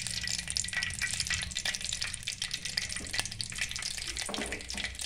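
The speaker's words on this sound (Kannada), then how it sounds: "ಎಣ್ಣೆ ಬಿಸಿ ಆದಮೇಲೆ ಸಾಸಿವೆ ಹಾಕ್ಕೊತಾ ಇದ್ದೀನಿ, ಹಂಗೆ ಜೀರಿಗೆನೂ ಹಾಕ್ಕೊಂಡಿದ್ದೀನಿ." Mustard seeds and cumin sizzling in hot oil for a sponge gourd fry, with a busy crackle and popping of seeds over a low background hum and some faint water-like noise.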